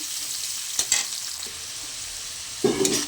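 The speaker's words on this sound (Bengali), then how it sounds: "পেঁয়াজ আর কাঁচা লঙ্কাটা আমি ভালো করে ভাজা ভাজা করে নেব" Chopped onion and green chili sizzle steadily in a hot pan, with a few sharp clinks of a spatula stirring near the start and again toward the end.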